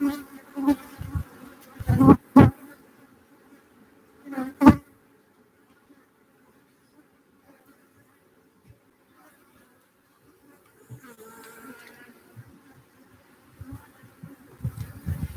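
Bees buzz in short bursts close to the microphone, separated by quiet stretches, with a few louder passes near the start.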